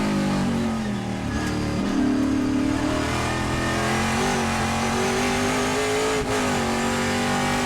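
A Trans Am race car engine roars loud and close at Thunderhill, holding a high, sustained drone through a fast corner with slight pitch swells as the driver lifts and powers on.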